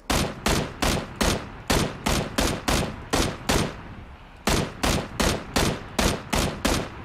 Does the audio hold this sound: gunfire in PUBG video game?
yes